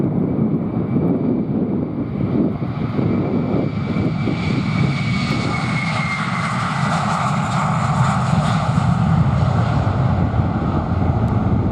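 On a windy afternoon at London Luton, an airliner on the Rhodes flight roars loudly and steadily as its jet engines pass nearby, with a high turbine whine and gusts of wind noise over the microphone.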